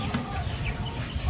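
Many farm-raised chickens clucking in a low, busy murmur, several birds close by with a steady background of farmyard noise.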